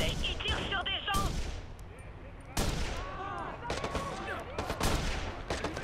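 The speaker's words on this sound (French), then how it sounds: "il tire sur des gens!" In Watch Dogs, close gunshots crack out in a rapid, irregular string, some single and some in quick bursts, sharp and loud against the game's background noise.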